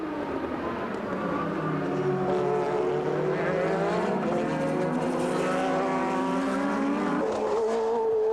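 1983 Formula 1 turbo race cars, a BMW turbo and a Renault turbo, howl past side by side, their engine notes rising and sweeping in pitch, loud and continuous with no talk.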